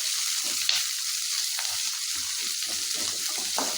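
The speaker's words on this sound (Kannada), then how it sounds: "ಸ್ವಲ್ಪ ಚೆನ್ನಾಗಿ ಫ್ರೈ ಮಾಡಬೇಕಿದೆ ಬಣ್ಣ ಬರಬೇಕಿದೆ ಈರುಳ್ಳಿ ಅದಕ್ಕೆ ಫ್ರೈ ಮಾಡಬೇಕು" Chopped onions sizzle steadily in a hot pan for egg masala, a continuous bright hiss broken by soft stirring scrapes, close and alone with no voices.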